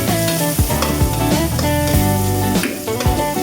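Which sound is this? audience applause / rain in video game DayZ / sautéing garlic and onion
sautéing garlic and onion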